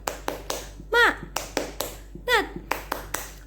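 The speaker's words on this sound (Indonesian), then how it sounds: "Tepuk semangat." Rhythmic hand clapping in short bursts, about a dozen sharp claps in a steady patterned beat, with a voice chanting between them in a classroom-style clapping cheer.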